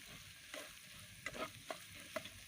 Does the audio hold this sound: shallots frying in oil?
yes